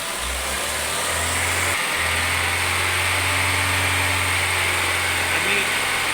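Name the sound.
car engine revving up to 2500 rpm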